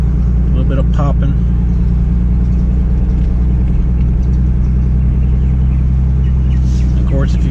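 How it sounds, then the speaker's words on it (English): Hyundai Genesis with muffler and resonator deleted, a loud deep exhaust rumble droning steadily from a moving car, with a few pops on lift-off, heard under someone talking. "And you see it's got that little bit of rumble when you let off the gas."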